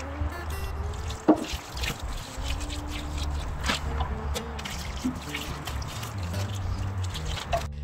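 Water trickling and dripping steadily onto freshly planted onions and garlic under a plastic mulch sheet in a vegetable garden, a generous soaking with a continuous close splashing flow and scattered louder drips.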